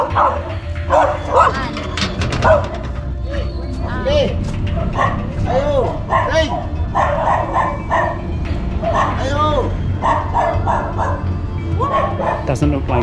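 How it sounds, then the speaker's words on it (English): Several dogs bark and yip excitedly at a house in the Philippines, loud and close in rapid overlapping bursts, with people talking underneath. "beware of dogs in the Philippines"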